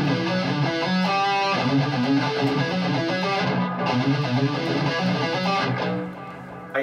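A distorted electric guitar plays a fast solo in steady 16th notes through the B natural minor scale, a dense, continuous run of bright notes for several seconds with no talking.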